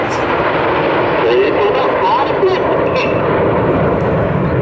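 RAF Red Arrows jets fly at the Sywell 2024 air show, producing a steady, loud, broadband jet roar that fills the whole stretch, with a commentator's voice faintly underneath.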